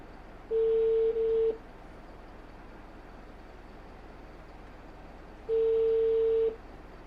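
An outgoing-call ringback tone plays over a Bluetooth-connected radio in a new Isuzu truck: two steady, loud electronic tones about a second long, separated by several seconds of quiet hiss.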